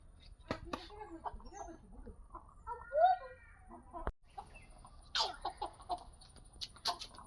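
A chicken clucks several times close by, in short irregular bursts, with brief speech and some rustling mixed in.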